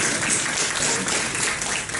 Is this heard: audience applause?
yes